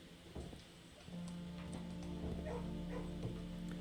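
A dog in the video game Blue Prince gives a few short yips and whimpering barks, then a steady hum sits under scattered faint clicks and ticks.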